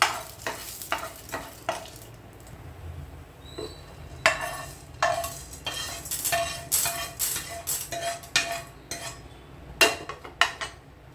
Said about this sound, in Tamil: இது கோல்டன் ப்ரவுன் கலரில் வறுத்துக்கலாம்.